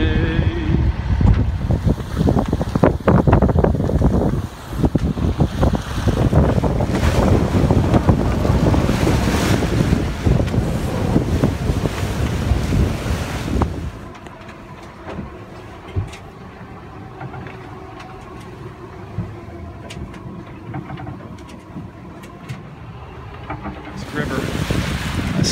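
A sailboat runs down a bay on a beam reach in strong wind, with heavy buffeting wind noise and rushing water that later ease into quieter lapping and hull sounds.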